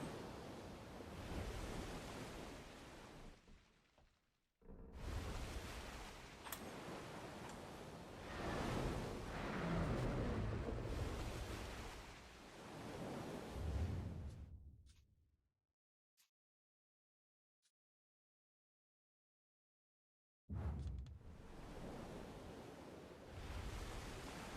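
Water and waves wash around an island in Black Desert Online, a broad rushing surf-like roar that swells and fades, drops out into near silence for several seconds, then returns.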